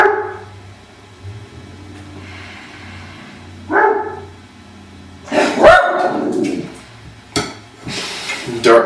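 A dog barks a few times from outdoors at moderate distance, short sharp bursts with gaps, mixed with dish and kitchen clatter while a person talks.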